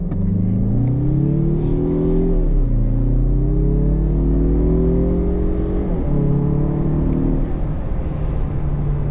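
A 2024 Mazda CX-30 Turbo with all-wheel drive, in sport mode, accelerates hard up a hill. The engine drone climbs steadily in pitch, drops briefly at two gear shifts, then rises again, loud and continuous with no talk.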